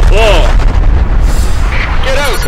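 Artillery fire in the video game GMA Tank Commander: a dense, loud rumble of booms and blasts that fills the whole stretch, with voices talking over it.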